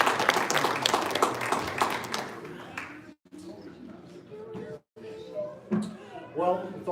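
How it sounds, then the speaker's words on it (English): Applause from the crowd at a Weber County Republican Party election night party, dense clapping for about three seconds that then gives way to someone speaking. "Let's give future Representative Musselman a big round of applause."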